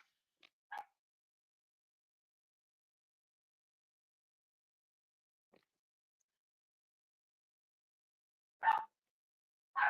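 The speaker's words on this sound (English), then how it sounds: "Can y'all hear the dogs barking?" A few faint, distant dog barks in short bursts, separated by long stretches of near silence.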